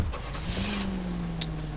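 A car in the video game L.A. Noire starts pulling away, a steady engine drone rising slightly in pitch as it accelerates, fairly loud and close with no talking.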